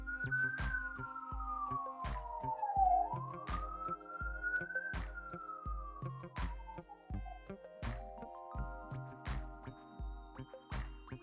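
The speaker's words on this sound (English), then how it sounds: "That's why I hear all the sirens." A rising and falling whistle-like siren wails over a steady, pounding beat of music, sweeping up and down twice in the foreground.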